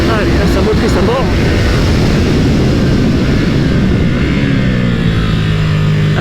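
A 2022 Ducati Streetfighter V2 motorcycle roars loudly and steadily as it accelerates, its engine note climbing through quick-shifter upshifts with brief pitch drops, close up throughout, with a voice talking over it.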